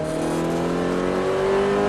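A Ferrari F430 F1 engine revs hard under full-throttle acceleration on a track, its pitch climbing steadily, loud and close throughout.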